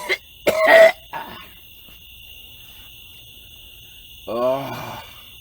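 Two short, harsh coughs near the start, then quiet with a faint steady hum, followed by a brief groaning exhale.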